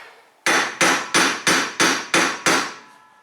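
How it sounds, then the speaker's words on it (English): Seven sharp metallic strikes of a brass hammer on the rear wheel bearing of a 2004 Toyota Highlander, in a steady rhythm, each ringing briefly before the next, close and loud with no talking. "use a brass hammer."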